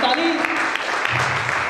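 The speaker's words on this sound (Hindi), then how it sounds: "जोरदार तालियां इनके लिए।" Audience applause at a company first-anniversary ceremony, a dense steady patter of many hands clapping, fairly loud, with a voice speaking over it.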